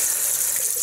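Hot water runs steadily from a bathroom tap over hands at a sink before shaving with soap, a continuous close hiss with no voices.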